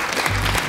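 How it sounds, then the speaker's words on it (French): A short burst of audience applause at a talent-judging show, dense and steady clapping from a crowd across the whole moment. "Tout le monde a applaudi spontanément,"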